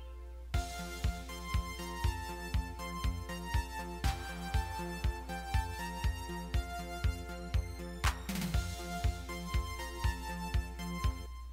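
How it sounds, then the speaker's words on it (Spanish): A 1980s Italo disco-style synthesizer track. A steady, punchy electronic beat with bright layered synth chords and a driving bass pulse plays loud and alone, with a sweeping swell partway through. "Como pueden ver, el sonido es bastante electrónico, se usan muchos sintetizadores"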